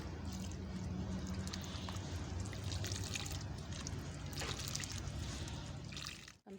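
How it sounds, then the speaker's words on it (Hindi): Water is poured into a potted plant during a morning plant-care routine, a continuous soft trickle lasting several seconds before stopping abruptly, with no speech over it. "तो इसमें भी हम पानी डालते हैं।"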